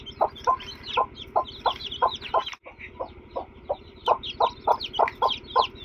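Newly hatched chicks cheep in a quick, regular run of short, bright peeps with a steady low hum underneath. There is a brief break near the middle before the peeping starts again.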